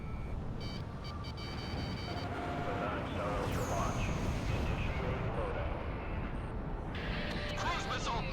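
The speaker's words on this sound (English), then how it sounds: "Garuda 1 launched missile. Missile struck target." Missile launches and blasts in the flight combat game Ace Combat 6, a dense continuous roar of jet engine and explosions with occasional beeping tones, while voices talk over the action.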